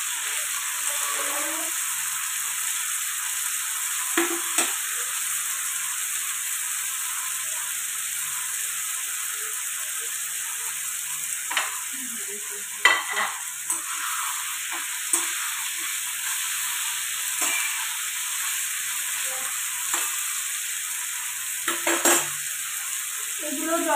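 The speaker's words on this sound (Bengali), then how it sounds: "একসঙ্গে আমি ভাজছি" Onion, ginger paste and tomato frying together in a pan for a cauliflower, carrot and pea curry, a steady soft sizzle broken by occasional scrapes and clinks of stirring, no talking.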